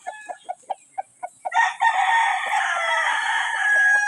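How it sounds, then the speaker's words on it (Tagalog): Hens cluck in quick, regular bursts, then a rooster lets out a long, loud crow nearby while other birds keep calling underneath, in Anda, Philippines. "Ito yung mga manok na rito."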